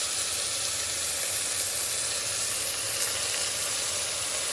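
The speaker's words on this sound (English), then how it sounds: "now we're going to add some good old chicken stock" Chicken stock hitting a hot pan of crispy-skinned potatoes, giving a loud, steady sizzle and steamy hiss that holds evenly throughout, close up with no talking.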